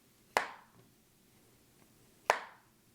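A Samsung Galaxy Z Flip 5 folding phone snaps shut twice, two crisp, sharp claps of the hinge about two seconds apart, close and clear against a quiet room.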